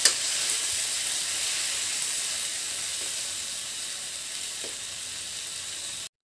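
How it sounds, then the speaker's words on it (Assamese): Chopped tomatoes fry for a chicken curry, giving a steady, close sizzle throughout with a few faint stirring ticks, no voices. "সেইকেইটা দি পেলাই এতিয়া মই ধুনীয়াকৈ ভাজি ল'ম"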